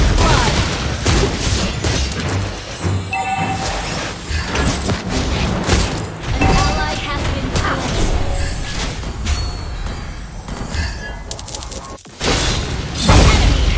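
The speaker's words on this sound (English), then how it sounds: "Try to outrun my bullets." Gunfire rattles through an action video game in the desert, with bursts of shots, impacts and crashing effects layered over a busy soundtrack and a brief voice.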